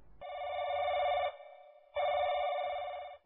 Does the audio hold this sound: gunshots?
no